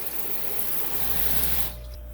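Water runs from a tap as a cup is rinsed out at a sink during brine shrimp hatching, a steady close rushing hiss for under two seconds before it cuts off.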